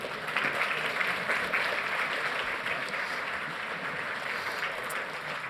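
A conference audience applauds in a thick, sustained wash of many hands clapping together, fairly loud and steady, tapering slightly toward the end.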